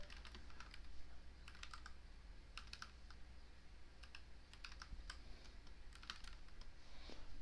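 Linux terminal command typed on a computer keyboard, a quick irregular run of soft key clicks in several short bursts over a low steady background hiss, close and quiet with no voices.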